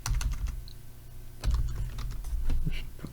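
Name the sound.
typing on a computer keyboard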